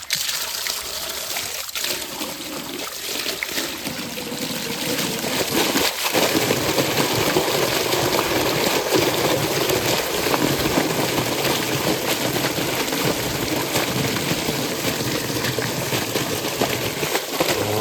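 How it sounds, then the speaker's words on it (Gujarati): Water runs along a village irrigation channel and pours into a farm field, a steady trickling and splashing flow that grows louder midway, with a faint engine hum and a few knocks in the background. "જો આ રીતનું અહીંયા પાણી આવે છે અને ધોરિયામાંથી થાય છે ખેતરમાં."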